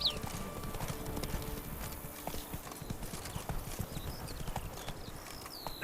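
Roach the horse gallops along in The Witcher 3: Blood and Wine, giving a steady run of rapid hoof clip-clops that carries on through the whole stretch, with faint game ambience and brief bird-like chirps over it.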